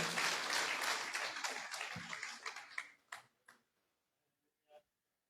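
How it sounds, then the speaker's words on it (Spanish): Church congregation applauding during a Spanish-language service, a full burst of clapping that thins out into scattered claps and then falls silent. "Dele un aplauso al Señor en esta mañana."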